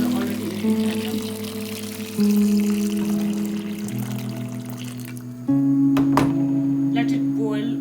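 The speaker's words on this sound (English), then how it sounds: "Then I'm going to add hot water. I boiled already in the kettle." Hot water from a kettle is poured onto tomatoes in a pot, a steady liquid stream whose pitch shifts in stages as the vessel fills, ending with a few clatters.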